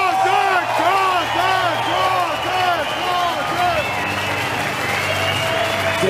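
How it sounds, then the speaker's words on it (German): Applause from the crowd at a professional boxing match, carried under loud, booming arena music with a rhythmic pulsing melody, the clapping sitting as a broad wash beneath it. "Und trotzdem nochmal ein dicker Applaus für unsere Katzentorte."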